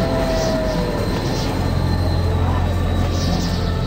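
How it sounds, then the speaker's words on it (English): A steam train rumbles past with a steady low roar and faint metallic squeals, continuous and fairly loud throughout. "Here come the big iron horse a-puffing down the iron rail."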